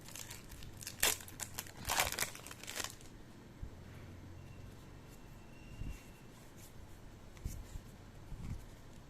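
A foil Magic: The Gathering booster pack wrapper torn and crinkled open at a prerelease kit unboxing: a few close, sharp crackling bursts early on, then quieter rustling and handling with no talk.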